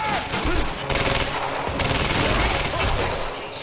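Heavy gunfire during a firefight in the video game Quantum Break: loud sustained fusillade of rapid overlapping shots and bursts, close and continuous throughout with little pause.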